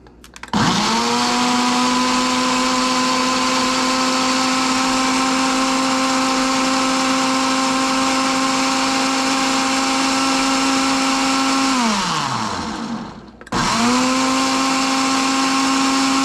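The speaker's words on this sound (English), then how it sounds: "we're going to blend that up without ice." Blender whirring loudly as it purees fresh banana for a cocktail without ice, a constant high motor whine for about twelve seconds that winds down, then a short pause and a restart, with no talking.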